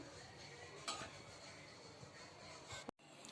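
Cooked spinach bhaji being spooned from a pan into a steel tiffin box, with scraping and clinking of a spoon against metal under steady kitchen background noise, one sharper clatter partway through and a brief cut near the end.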